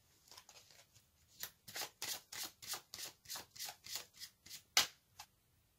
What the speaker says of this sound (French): Je vais tirer une carte supplémentaire pour compléter cette énergie.